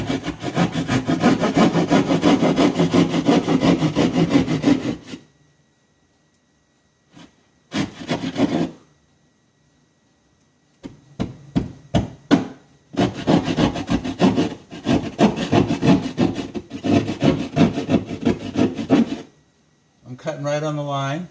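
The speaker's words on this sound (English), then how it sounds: "So now I'm going to take my saw here, pop this in there, cut" Hand saw cutting an opening for an electrical outlet box in a wall, giving bursts of rough back-and-forth rasping strokes separated by quiet pauses, fairly close and loud.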